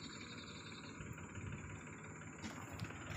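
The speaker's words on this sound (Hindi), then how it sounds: "ट्रैक्टर आने हजू कन तो" A tractor engine drones steadily at low volume, a continuous rumble with no clear build in loudness, heard alone without talk.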